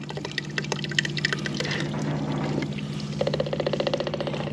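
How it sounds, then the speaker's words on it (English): A fluid pump drawing liquid from the fuel system of a 1UZ-engined boat, a close rattling mechanical whir over a steady hum, with splashing and pouring liquid throughout and no talk. "Oh, It's definitely pumping fluid."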